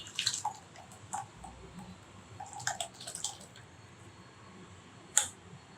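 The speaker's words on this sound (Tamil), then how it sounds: "இப்போ நம்ம வடிகட்டிடலாம்." Beetroot juice drips through a kitchen strainer, falling in quiet, sparse drops and small clicks with a few louder splashes, on its own with no talking.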